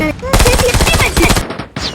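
Machine gun fire in Call of Duty, a loud close burst of rapid evenly spaced shots lasting about a second, then a short pause and a quieter tail.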